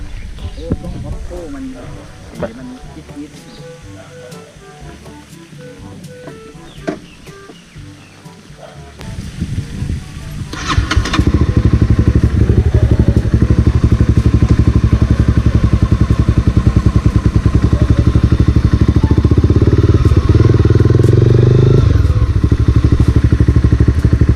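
A Honda CBR300R motorcycle with an Akrapovic exhaust idles with clatter and a voice nearby, then roars into a loud, sustained, close engine drone as it rides off, rising and steadying in pitch.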